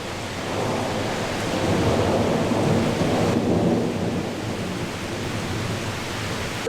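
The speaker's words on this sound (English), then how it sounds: "it's thundering" Deep, sustained rumbling of thunder during a storm in Norway, rolling steadily with a broad wash of noise that could be rain, loud and continuous throughout.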